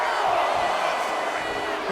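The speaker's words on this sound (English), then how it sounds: "And Vega is firing up the crowd here" Arena crowd cheering in the WWE 2K25 wrestling video game during a women's match, a steady roaring wash of voices with whoops, loud and continuous.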